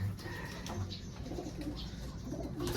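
A fancy pigeon at a loft coos softly in a few low, throaty bursts, close but faint against a quiet background with no speech.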